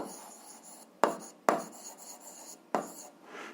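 A pen scratches out an algebra solution on paper in short bursts of close, dry scraping, with a few sharper strokes standing out against a quiet room.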